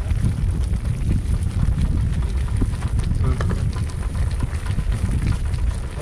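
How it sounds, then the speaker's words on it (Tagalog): Strong wind roars across the microphone at an outdoor rural farm cooking spot, a constant low buffeting rumble that fills the whole clip, loud and close, with no clear talk over it. "Uy, lakas ng hangin."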